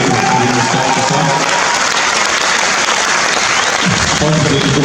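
Audience applauding at a university graduation ceremony, a loud, continuous roar of clapping filling the hall with crowd voices mixed in underneath.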